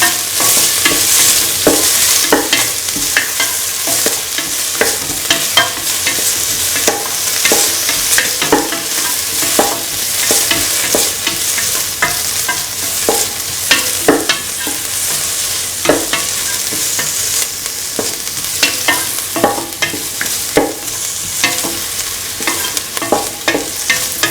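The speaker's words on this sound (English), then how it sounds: "saute the onions until golden brown." Onions sauté in a pan with a constant soft sizzle, while a spoon scrapes and stirs them in frequent irregular strokes, close and clear.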